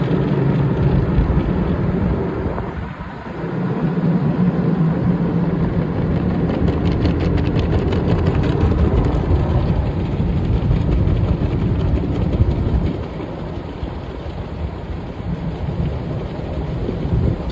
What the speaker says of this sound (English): And our side washers and triple foam.